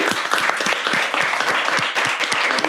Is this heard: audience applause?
yes